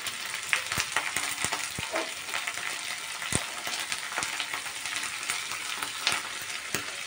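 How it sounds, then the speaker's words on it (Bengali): Dried kachki fish and green chillies fry in a pan with a bright, constant crackling sizzle, punctuated by occasional sharp taps and scrapes of a spatula, near and steady. "এখন আমি ভালো করে সব কিছুকে ভালো করে আমি ভেজে নেব"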